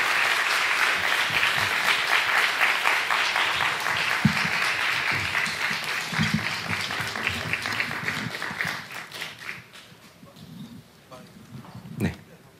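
Warm applause from a church youth service congregation welcoming an elder to the front, dense and steady for several seconds before thinning out, with a few scattered claps and a voice speaking as it fades.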